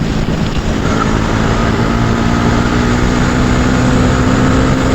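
Bajaj Pulsar NS400Z motorcycle engine holding a loud, steady roar with wind rush, running continuously and close with no talk.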